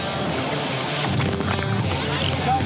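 A lifeguard rescue craft's engine pushes on throttle through breaking surf at Bondi Beach, a steady motor roar mixed with the rush and crash of waves and wind, loud and close throughout.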